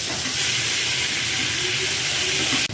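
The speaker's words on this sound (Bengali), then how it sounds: "তেলটা গরম হয়ে গিয়েছে। এবার এতে যে লঙ্কার গুঁড়োটা রেখেছিলাম সেটা আমি অ্যাড করছি।" Chili powder sizzling loudly in hot oil in a pan while Malwani fish curry with katla fish is being cooked, a steady close hiss and frying crackle throughout with no talking.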